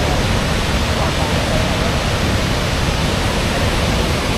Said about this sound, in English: the waterfall sits literally directly here in the center between those two borders